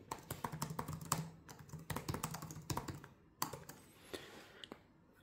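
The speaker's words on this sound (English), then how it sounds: "Let's have a typing test and see how they are acting." Close-up typing on a Lenovo ThinkPad P16v Gen 3 laptop keyboard: rapid clusters of crisp key clicks with brief pauses between bursts, no voices.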